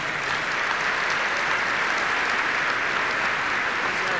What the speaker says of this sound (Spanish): le pido un aplauso a todos para el doctor Otero